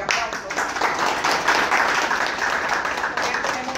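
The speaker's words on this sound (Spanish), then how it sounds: "Le damos un fuerte aplauso." An audience at a La Romana event claps in a steady, dense wash of applause that stays even and fairly loud throughout.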